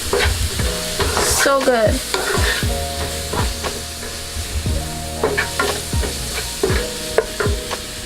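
Coconut curry potato for a vegan dish is stirred in a frying pan: clattering utensil scrapes and knocks over a soft sizzle, with a brief spoken remark.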